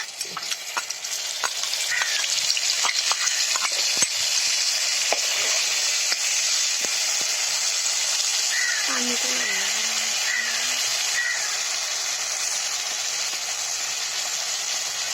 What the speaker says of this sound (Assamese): এতিয়া মছলাখিনি দি দিছোঁ।